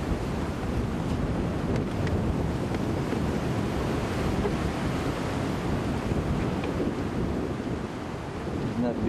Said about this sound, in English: you can see the wind really starting to rush now